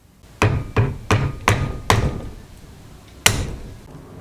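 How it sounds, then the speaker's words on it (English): Hammer driving a flathead screwdriver to knock out U-joint caps and C-clips on a 3rd gen Toyota 4Runner, five sharp metallic strikes in a steady rhythm, then a pause and one final loud hit, close up. "You really just have to keep hitting on one end with a flathead and a hammer until they just slide on out"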